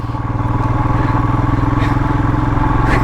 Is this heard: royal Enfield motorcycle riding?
yes